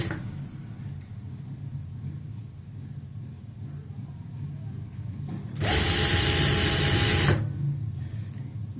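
An electric sewing machine stitches a kurti in one loud, fast burst of about two seconds over a low background hum; no voices.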